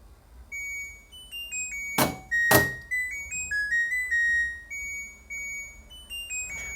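An LG washing machine plays a short end-of-cycle electronic melody of high, clear beeping tones, broken early by two loud thuds.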